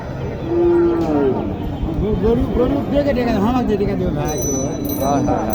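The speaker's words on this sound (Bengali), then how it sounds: "এত ভিড় গরুর বাজারে" Cows moo over a busy crowd of voices and chatter at a crowded cattle market in Naogaon, Bangladesh, with several lowing calls rising above the din.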